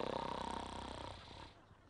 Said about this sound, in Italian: La smetti di russare?